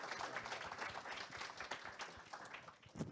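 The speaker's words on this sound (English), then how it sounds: "A round of applause is totally appropriate at this point." Steady audience applause fills a panel discussion on arts and economic vitality, dense clapping from a room of people, sustained and fairly even throughout before easing slightly near the end.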